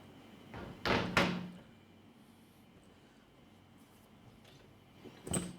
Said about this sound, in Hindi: दरवाजा खोलो